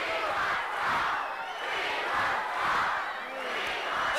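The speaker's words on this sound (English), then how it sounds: "Listen to that crowd chant at Gino now" A wrestling arena crowd chants at Gino Hernandez in rhythmic, swelling waves, a loud mass of voices rising and falling about once a second.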